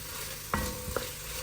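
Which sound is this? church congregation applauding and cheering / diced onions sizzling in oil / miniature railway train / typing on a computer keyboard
diced onions sizzling in oil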